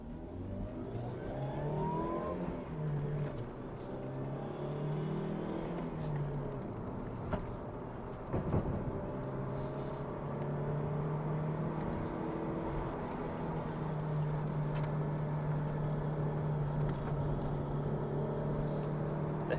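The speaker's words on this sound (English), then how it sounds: "let's put this car through its paces and see how it handles" A Proton Satria GTi revs and accelerates on a winding road, its engine note rising and falling through gear changes, loud and steady throughout with no talk.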